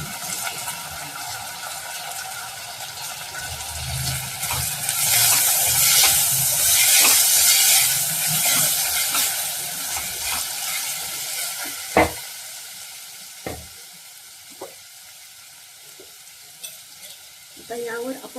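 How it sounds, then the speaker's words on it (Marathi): Carrots sautéing in a pan give a steady, moderate sizzle with stirring scrapes, followed by a few sharp utensil knocks as it quiets toward the end. "गाजर थोडंसं परतून घे 2 मिनिटं"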